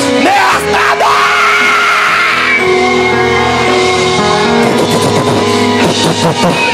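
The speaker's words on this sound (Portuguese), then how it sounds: "vem comigo no aleluia. Vem, vem, vem, dá o maior grito de glória nesta" A church congregation at an evangelistic crusade shouts glory in a loud, sustained roar of yelling voices that surges again toward the end, dense and close with no clear single speaker.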